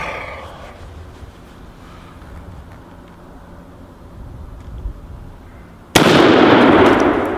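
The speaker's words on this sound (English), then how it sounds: "let's plug that cinder block down there, John." A .375 H&H Magnum rifle fires at a cinder block outdoors, a sudden loud blast followed by a sustained roaring rumble after a quiet stretch of faint ambient noise.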